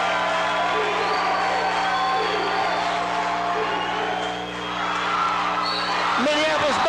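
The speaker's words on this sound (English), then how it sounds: "Listen to this crowd." High school basketball crowd cheering in a gym, a loud sustained roar with whoops under a commentator's voice and steady tonal hum, swelling again near the end.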